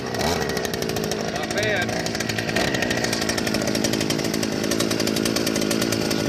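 A Harbor Freight 52cc two-cycle gas-powered auger engine runs close by at a loud, continuous buzzing whine, while someone speaks briefly over it.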